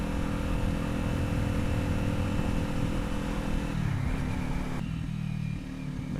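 A Kawasaki Ninja 400 motorcycle ridden on the road, its engine a steady loud drone with constant wind rush that shifts pitch near the end as the revs change.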